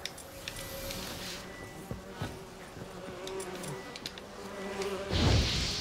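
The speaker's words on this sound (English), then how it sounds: "Bees." Bees buzz in The Witcher 3 video game, a faint steady hum with scattered soft clicks and game ambience, rising briefly into a louder rustle at the end.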